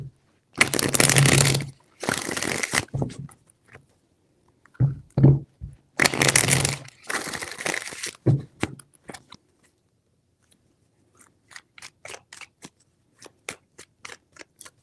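Tarot cards are shuffled in three bursts of rapid riffling flutters, each a few seconds long with pauses between, followed by sparse soft card taps and handling sounds.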